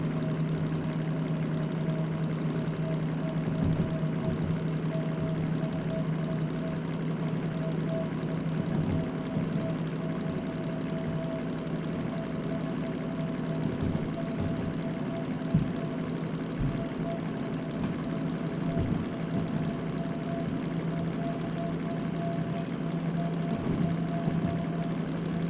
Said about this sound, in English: you can kind of kick back and just let the locomotive do its thing